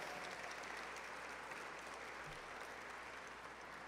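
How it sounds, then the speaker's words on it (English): Steady applause from an audience at a basketball clubhouse event, a dense, even wash of clapping that holds at a faint, distant level throughout. "Give yourselves a round of applause."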